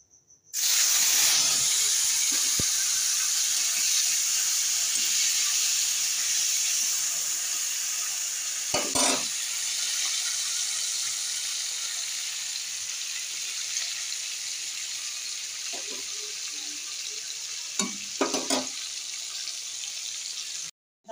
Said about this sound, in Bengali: মাছের তেল এনেছে বন্ধুরা, ভাজছি এখন।